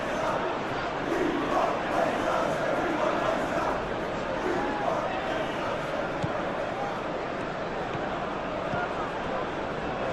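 Simulated stadium crowd from the PES 21 football video game, a dense, continuous roar of many voices at steady loudness throughout.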